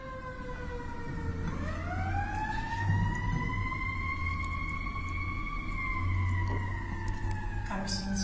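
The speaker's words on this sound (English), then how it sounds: "Well, and we have a siren again." An emergency siren wails with rising and falling sweeps, steady and fairly loud over a low rumble, lasting throughout.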